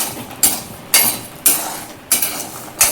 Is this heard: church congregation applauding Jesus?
no